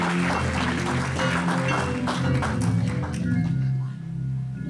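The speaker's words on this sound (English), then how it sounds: "Let's give the man of the Lord a hand clap as he comes." A church congregation claps along in rhythm to welcome Pastor Joseph at Hope Church, with sustained musical tones underneath.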